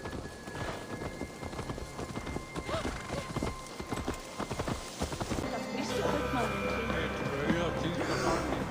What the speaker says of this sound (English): Let's return the horse.